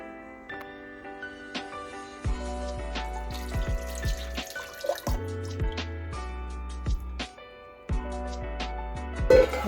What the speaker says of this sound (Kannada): ಸ್ವಲ್ಪ ವಾಟರ್ ಆ್ಯಡ್ ಮಾಡ್ತೀನಿ ಇದಕ್ಕೆ